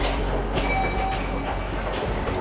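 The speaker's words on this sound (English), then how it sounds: "They're just about to pass through here, but it does not look like on a local train." Fast train in Japan passing close by, a steady loud broadband rumble with faint rail squeal tones, continuous for the whole stretch with no talk.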